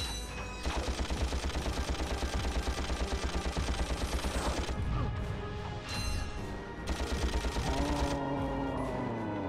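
Rapid, steady weapon fire from a Ratchet & Clank boss fight, loud repeated shots in long bursts with brief pauses and heavy impacts, no talking.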